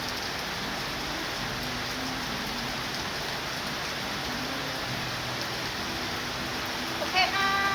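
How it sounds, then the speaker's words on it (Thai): Heavy rain pouring down, a loud, steady, dense hiss filling the whole stretch, with a faint brief voice near the end. "ตอนนี้น่าจะไปไหนไม่ได้เพราะฝนตกหนักมาก"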